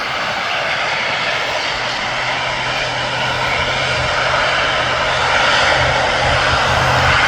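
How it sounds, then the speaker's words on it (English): An Aer Lingus airliner at Birmingham airport makes a loud, sustained engine roar. It holds steady and grows slightly stronger toward the end, with no voices over it. "So now goes the Aer Lingus."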